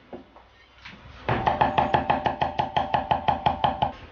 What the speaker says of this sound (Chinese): 大蒜准备少许，用刀片破， 剁成蒜米后备用。